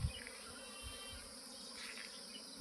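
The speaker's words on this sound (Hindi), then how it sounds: "ये सब मधुमक्खी है दोस्तों" A swarm of honeybees drones steadily across an open grassy field, a faint, continuous buzz with no talking.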